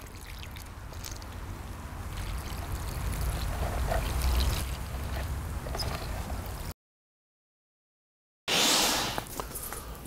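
Water poured onto a planter of autumn and winter plants splashes and trickles continuously, breaks off in a brief silence, then resumes with a louder rush.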